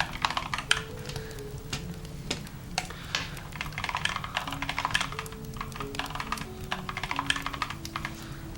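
Fast, continuous typing on a computer keyboard, with dense, irregular key clacks close by, alone over a soft musical background.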